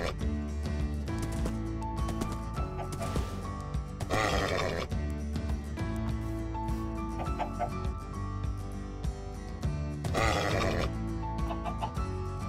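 Neighs and whinnies from a horse in a survival video game play against a busy, steady music-like background, with a couple of louder, brighter bursts standing out over roughly twelve seconds, and no speech.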